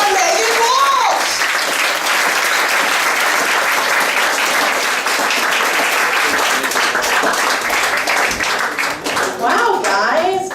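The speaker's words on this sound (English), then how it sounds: "Give me big claps." An audience at Broadway Comedy Club on a Friday show claps and cheers steadily for a comedian, a dense loud wash of applause with whoops, while a host speaks over it at the start and end.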